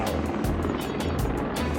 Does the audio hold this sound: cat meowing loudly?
no